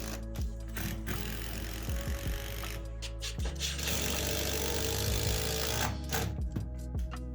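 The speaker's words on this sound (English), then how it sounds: "We'll secure the beam to the column with screws." A power driver sets screws to secure a wooden beam to a column in a tatami room being converted to flooring, giving loud whirring, ratcheting bursts with short pauses between them, up close and with no voices.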